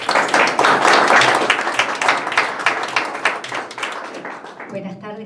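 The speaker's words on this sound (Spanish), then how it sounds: "Un aplauso para ella." An audience at a literary reading applauds a writer with close, fairly loud clapping that tapers off, and a voice begins speaking at the end.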